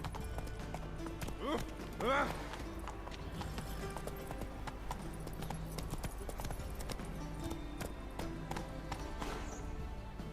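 Horse hoofbeats clip-clop in The Witcher 3, a steady rhythmic trot of the horse Roach with a brief whinny, close and fairly loud throughout, while someone talks over it.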